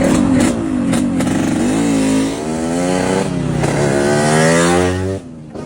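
Motorcycle engine revving loudly nearby, its pitch climbing and falling through several throttle blips before it rides off and drops away at the end.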